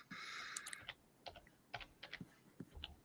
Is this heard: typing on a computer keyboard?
yes